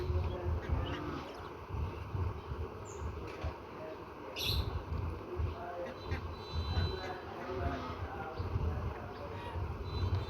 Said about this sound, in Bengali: দেখেন আমার দেশি হাঁসগুলা পুকুরে চলে যায়।